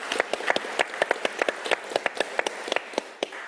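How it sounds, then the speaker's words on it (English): Applause at an academic symposium, a small audience clapping steadily with sharp, irregular claps close by, continuing throughout without voices. "I'd just like to give a round of applause."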